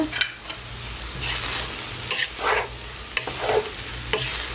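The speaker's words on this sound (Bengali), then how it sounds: "চালটা একটু ভেজে নিচ্ছি।" Rice grains stir-fried in a pot for biryani, a steady close sizzle broken by repeated scraping stirs of the spoon against the metal, with no talking.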